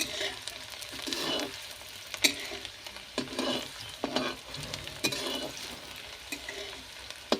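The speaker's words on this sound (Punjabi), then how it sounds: "ਉਦੋਂ ਤੱਕ ਆਪਾਂ ਇਹਨਾਂ ਨੂੰ ਹਲਾਉਂਦੇ ਰਵਾਂਗੇ ਹਲਾਉਂਦੇ ਰਹਿਣਾ ਇਹਨੂੰ ਜ਼ਰੂਰੀ ਹੈ" Round gourd (chappan kaddu) curry being stirred in a pan, a steady soft sizzle of frying under repeated scraping strokes of a spoon, close and fairly quiet with no talk.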